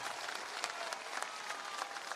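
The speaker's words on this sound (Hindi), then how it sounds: "जोर से बजाइए ताली।" A crowd claps at a political party launch rally, a steady wash of applause with scattered sharper claps standing out, at moderate loudness and with no clear speech.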